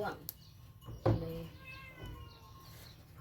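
A cat meows briefly and faintly near someone who is talking, with a soft thump and quiet household background around it.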